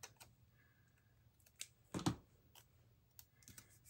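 Scissors snip paper in a planner with a few quiet, sparse cuts, one firmer snip standing out near the middle against a hushed room.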